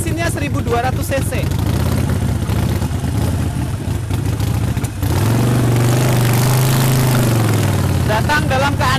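A loud 1200cc custom Harley-Davidson Sportster Low XLL engine rumbles with deep exhaust, steadying into a low idle, while someone talks over it.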